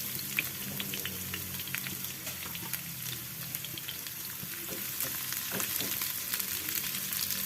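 Sliced shallots, garlic and onion sauté in a pan of oil, a steady close crackling sizzle dotted with sharp pops and a few stirring scrapes; no one speaks.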